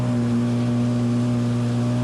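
A stock two-stroke Yamaha Waveblaster 2 jet ski engine, fitted with a new wear ring, drones steadily on open water with a loud, constant buzzing hum and no change in pitch.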